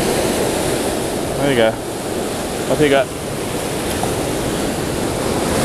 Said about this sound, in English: so they're right against that surf